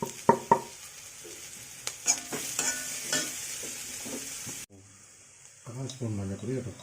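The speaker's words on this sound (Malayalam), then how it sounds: "എന്നിട്ട് നമുക്ക് സവാള അതിലേക്ക് ഇട്ടിട്ട് അതൊന്ന് ഇളക്കി കൊടുക്കാം" Onion, garlic and ginger fry in a pan for a radish porotta filling, stirred with sharp utensil clicks and scrapes over a soft sizzle, before an abrupt cut to quieter sound with a voice speaking.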